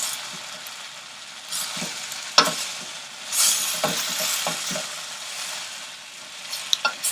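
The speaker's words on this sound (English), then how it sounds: "You have to constantly stir" Vegetables sautéed over high heat, stirred constantly in a pan: a steady sizzle and frying hiss with repeated scraping stir strokes, close and fairly loud, no talking.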